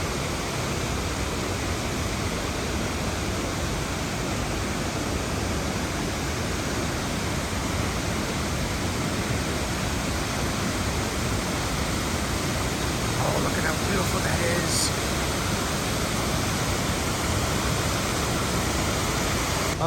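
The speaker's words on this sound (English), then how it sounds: "right now we're being treated with some pretty gorgeous views of Panther Creek Falls" Panther Creek Falls roars as a steady, dense rush of falling water, loud and unbroken throughout with no breaks or changes in intensity.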